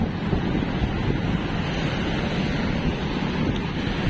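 Strong wind blows steadily during a ride in Navotas, a dense, continuous roar of gusts buffeting the microphone throughout, with no talk heard.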